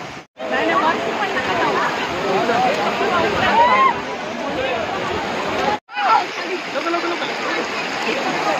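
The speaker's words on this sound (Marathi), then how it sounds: "तुम्ही बघा धबधब्यापर्यंत आम्ही पोहोचलेलो आहोत." A rainy-season waterfall roars in a steady, broad wash of falling water, close and loud for most of the stretch, with two brief cuts and some faint voices mixed in.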